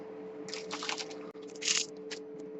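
Anhydrous calcium chloride granules poured into a flask in a lab, giving soft gritty crunching and squishy rustles in a few close bursts over a steady low hum.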